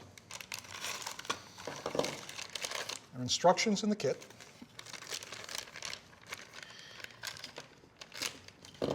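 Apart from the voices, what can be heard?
opening a plastic bag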